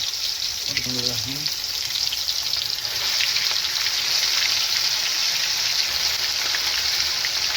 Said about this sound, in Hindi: तो यहाँ पर फ्लेम हमने मीडियम टू लो रखना है ताकि हमारी फ़िश जो है जलने की तरफ ना जाए।